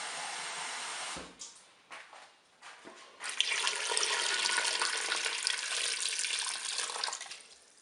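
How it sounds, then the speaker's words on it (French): Tap water pours into a Cookeo pot over beetroots, starting with a few knocks and short splashes, then a steady loud rushing stream that runs for several seconds before tapering off. "Donc là, je vais rajouter de l'eau."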